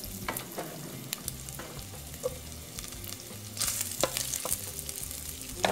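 Chorizo fries in rendered bacon fat in a pan, a steady soft sizzle with occasional crackles and scraping stirs, close up and quiet, without any talking.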